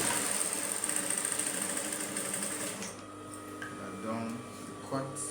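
A sewing machine double stitches a straight skirt, a steady close mechanical whir that runs for about three seconds then stops, with a voice talking over it and afterwards.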